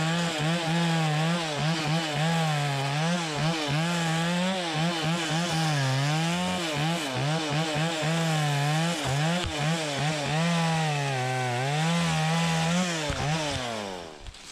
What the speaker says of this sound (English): I feel like you could run this chainsaw all day if you had to.